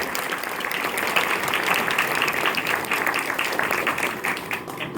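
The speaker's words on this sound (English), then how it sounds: "Big round of applause." Audience applause at a maker faire demonstration: a steady, dense wash of clapping from a crowd, sustained and fairly loud for several seconds with no talking.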